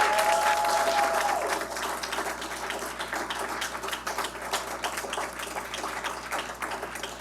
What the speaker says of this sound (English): So I just want to applaud them again.